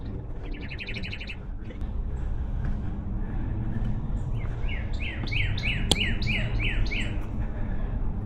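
Birds call under a forest canopy, with a short rapid chirping burst early on, then a clear series of repeated bright descending notes over soft steady background noise.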